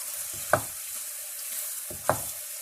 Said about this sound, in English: So I'm going to add some turmeric as well, because I do like turmeric.